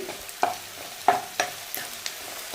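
Ginger garlic paste frying with onions in a pan, stirred with a spoon in a few sharp scrapes and knocks over a soft, steady sizzle, close by with no talking.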